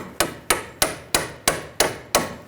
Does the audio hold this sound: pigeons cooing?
no